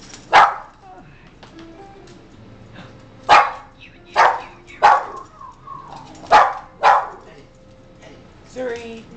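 A dog barks loudly about eight times in spaced single barks, close by, with quieter sounds between barks.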